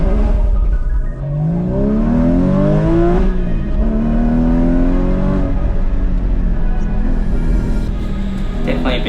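A Porsche GT4 (981) sports car engine revs and climbs through the gears on a morning autocross run on a drying track, loud and close, with a voice talking over it.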